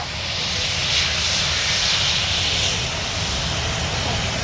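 A 14-year-old Airbus A321 airliner at Manchester Airport, a steady loud roar of jet engines that holds throughout without pauses.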